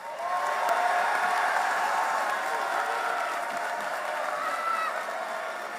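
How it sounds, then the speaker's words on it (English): Steady applause from a crowd at a school assembly, a continuous wash of clapping that holds evenly throughout without pauses. "let's give a round of applause to the Bronzeville's principal, Brother Richard Glass."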